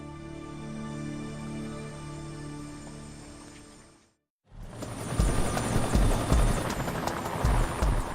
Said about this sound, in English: Miami-Dade police helicopters find the wreckage of Valujet Flight 592 in swampland